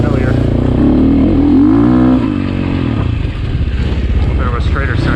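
A Sherco 450 dirt bike engine revs hard on an aggressive map, its pitch climbing then dropping as the rear wheel spins, loud and close with wind and riding noise; a rider talks over it.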